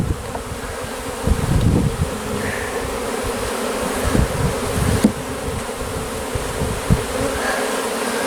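Continuous swarm of honeybees droning nearby as hive frames are put back in, accompanied by occasional light wooden bumps and scrapes; no talking.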